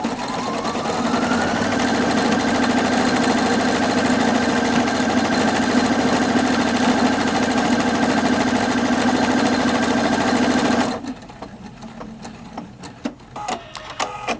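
A Viking Opal 670 sewing machine stitches out a name, giving a steady, fast mechanical whir that runs evenly for about eleven seconds and then stops abruptly, leaving only faint handling noises.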